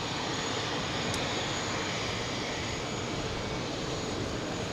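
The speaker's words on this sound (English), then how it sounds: "A220 powering up. It's taxiing." Airbus A220 jet engines powering up as the airliner taxis toward Terminal 5 at JFK airport, heard as a steady, broad roar with a faint high whine, distant and unchanging over several seconds.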